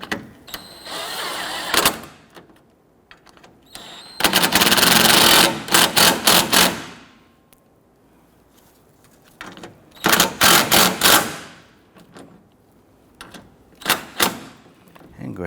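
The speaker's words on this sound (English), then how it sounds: "we're going to go ahead and snug them down" Radiator bracket bolts on a 2006-2014 Honda Ridgeline are snugged down in short mechanical bursts of rapid ratcheting, several loud runs separated by quiet pauses.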